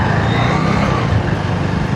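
A bus passing close by on a city street, its broad steady engine and road rumble filling the whole moment at a constant loud level, with no clear rise or fall.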